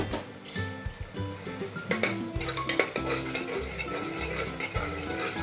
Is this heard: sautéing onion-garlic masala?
yes